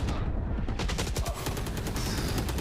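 Rapid gunfire trades back and forth in a competitive video game match, with dense overlapping shots crackling loudly and continuously, close and busy.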